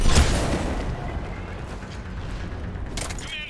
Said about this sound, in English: we're getting a lot of mortar fire